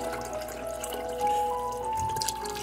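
Liquid poured over beef in a pot while making Italian beef, a steady soft trickle with faint dripping, close and continuous with no talking.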